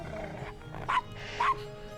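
Castro, a dog in the Gabriel Knight: Sins of the Father game, gives two short barks about half a second apart over a steady low background.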